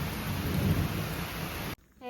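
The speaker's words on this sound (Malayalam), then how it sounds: "ആ പറഞ്ഞ പോലെ തന്നെ ഒരു മഴ നമുക്ക് കിട്ടുകയും ചെയ്യും ചെറിയ മഴ" Light rain falls in a dense, steady hiss with a deep rumble of thunder rolling beneath it, then cuts off abruptly near the end.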